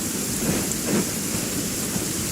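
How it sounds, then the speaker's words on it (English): Thunderstorm with rain in a fantasy open-world video game, steady dense rainfall hiss with low rumbling thunder underneath, continuous and alone. "Uh-oh! Lightning storm!"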